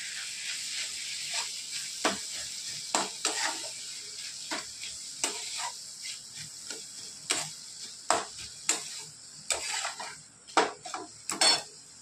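Green chili thecha being stirred and mixed in a pan, with irregular clinks and scrapes of a utensil against metal over a faint background hiss, growing more frequent toward the end.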